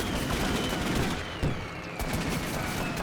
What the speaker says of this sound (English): The enemies were shooting at you.